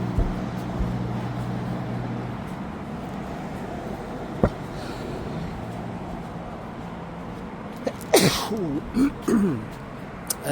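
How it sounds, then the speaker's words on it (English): Around the eighth second a man sneezes once, sharp and close, against a quiet background hum in Bangkok, followed by a brief sniff or throat sound. "That's me sneezing."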